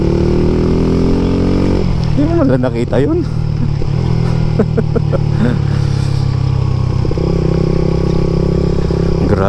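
A motorcycle's engine drones steadily as the rider leans into a turn, the hum shifting slightly in pitch, while someone talks briefly over the riding noise.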